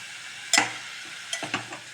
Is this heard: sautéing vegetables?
yes